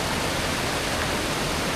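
Ross Creek Falls above Ross Creek Dam in the North Cascades, a loud, constant rush of falling water heard up close with no voices.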